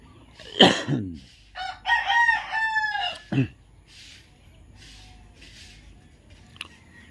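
Chickens call close by in a coop in the early morning, with a loud drawn-out crow followed by shorter clucks, then the yard goes quiet.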